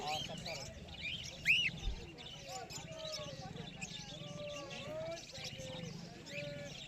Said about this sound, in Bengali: এখানে কিছু কোকাটেল আছে কোকাটেলের মধ্যে পেয়ে যাচ্ছেন অ্যালবিনো কোকাটেল বা লুটিনো কোকাটেল